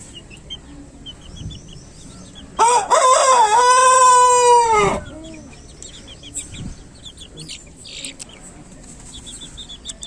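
A rooster crows loudly and close by in one long drawn-out call, with scattered chicken clucks and chirps before and after.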